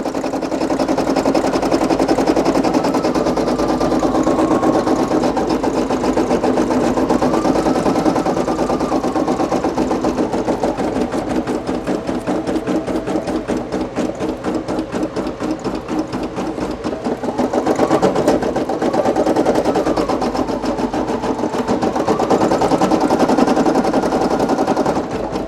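A Brother PE800 embroidery machine stitches a design onto a hat, a loud, steady, rapid needle chatter that runs without a break from start to finish, with a slight rise and fall in pitch.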